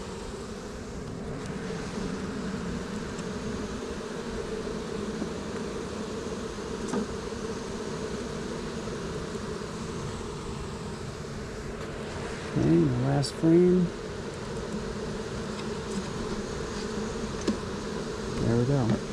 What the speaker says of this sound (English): And you see that mass of bees moving down in there.